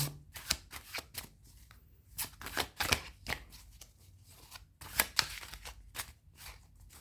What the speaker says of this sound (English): It's a little bit hard to shuffle because it's actually quite thick